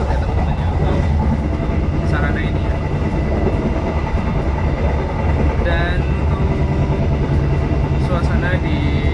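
Inside a Kutojaya Selatan economy-class passenger train on the Kutoarjo–Bandung route, a loud, constant rumble of wheels on rails and a rocking carriage fills the whole span, with voices heard beneath it.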